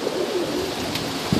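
Tippler pigeons coo softly in strong wind, a brief low call rising near the end over steady gusty rushing noise.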